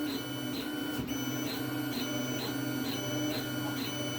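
A 3D printer with a VzBoT hotend runs a high-flow extrusion test, its steady mechanical whine joined by evenly spaced ticking pulses about twice a second, close and continuous.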